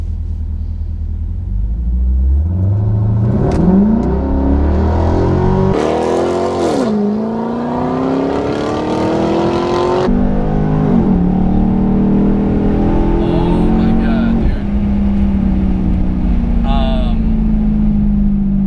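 A Chevrolet SS sedan launches hard from a standstill after a brake-held rev, its V8 roaring loud and close through rising gear pulls with brief shift dips, engine drone dominating throughout.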